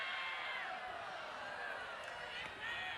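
Softball stadium crowd at an Oklahoma Sooners versus Arkansas Razorbacks game, a sustained loud roar of cheering fans that swells and holds for several seconds, with commentary voices faintly under it.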